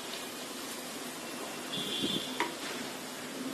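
Chicken and vegetables fry in hot oil, giving a steady, close sizzle that holds throughout, with a slight swell midway and a couple of faint utensil clicks.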